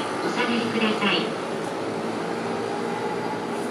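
A Keihin-Tohoku Line E233 series commuter train rumbles into Akihabara station with a steady, broad roar, while an announcement voice briefly sounds over it near the start.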